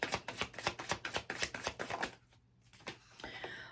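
Tarot cards shuffled by hand in a rapid run of crisp riffling slaps for about two seconds, then a short pause and a few softer card flicks close by.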